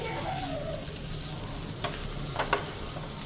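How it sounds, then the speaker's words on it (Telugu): Mutton spleen (tilli) pieces fry in a pan with a steady broadband sizzle throughout, punctuated near the end by a few sharp spatters and utensil clicks, with no talking. "ఇదైతే మంచిగా ఫ్రై అవుతుందండి."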